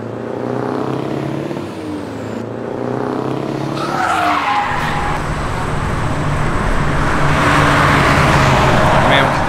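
An RV drives along the road on the way to a drag racing event, with a steady engine drone and road roar that build slightly louder partway through and continue without pause.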